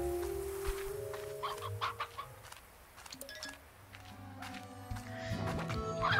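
A chicken in the video game Slime Rancher clucks in short repeated bursts over a steady game soundtrack, moderately close.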